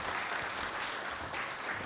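Audience applause welcoming the poet Jamuna Prasad Upadhyay at a kavi sammelan and mushaira, a continuous wash of many hands clapping, steady and fairly distant.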